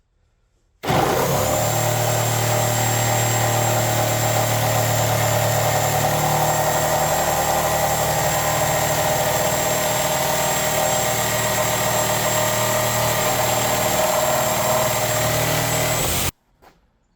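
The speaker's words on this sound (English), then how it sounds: "Next we have the Lenox carbide blade versus plain wood." A reciprocating saw fitted with a Lenox carbide blade cuts through plain wood, starting abruptly and running loud and continuous with a steady buzzing drone for about fifteen seconds before stopping sharply.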